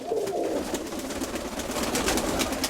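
Pigeons in rooftop dovecotes coo softly and steadily under a hiss of background noise, with no one speaking.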